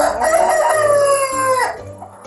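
A farm rooster crows once, close and loud, a long harmonic cock-a-doodle-doo that rises and then falls away, with faint clucking beneath it and no talk.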